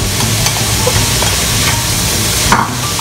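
Meat pie filling sizzles loudly and continuously in a hot pan while being stirred up close, with occasional scrapes and clacks of the utensil against the pan.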